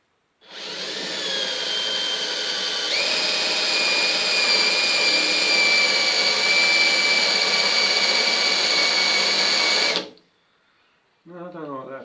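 A power drill with a slightly blunt 4mm bit bores into the rear valance of a Ford Capri, a steady, loud high-pitched whine that steps up in pitch partway and runs about ten seconds before stopping, followed by brief talking.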